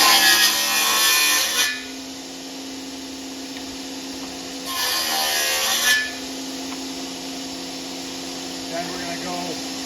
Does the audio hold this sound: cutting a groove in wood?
yes